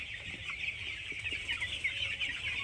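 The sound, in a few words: chickens in a poultry farm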